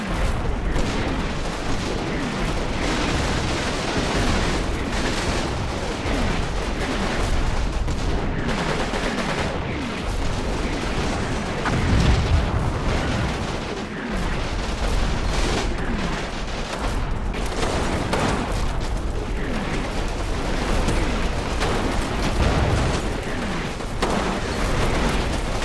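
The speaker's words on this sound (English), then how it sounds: "I am hit with another round of artillery." Artillery fire in the World War II game Combat Mission Battle for Normandy sounds as a dense barrage of booming impacts and crackling gunfire, with repeated blasts layered over one another and continuing without a break.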